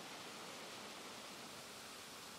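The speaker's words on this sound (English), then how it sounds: "Forks meet to form the tumbling waters of the main stem of Fall Creek." Fall Creek water tumbles over rounded quartz diorite rocks in a steady, broadband rushing hiss, faint and continuous with no voices.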